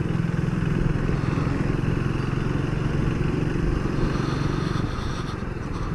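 Triumph Speed 400 motorcycle engine cruising in fifth gear at about 30 mph, a steady, loud, close low thrum that holds even throughout before easing slightly near the end.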